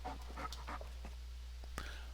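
A dog pants in Farming Simulator 19, soft quick breaths in a few short bursts over a steady low hum, with one sharper sound near the end.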